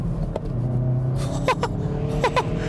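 A car engine accelerates during a test drive of a performance compact, either a VW Golf GTI or a Hyundai i30 N, with a steady low rumble and a few brief clicks and knocks from inside.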